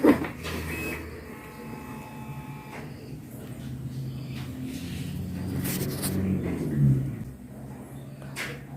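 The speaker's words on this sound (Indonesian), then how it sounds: "ada suara tit seperti melakukan pembersihan gitu ya" An inkjet printer whirs and clunks through a head-cleaning cycle, with motor hums, short grinding passes and a louder clatter near the end.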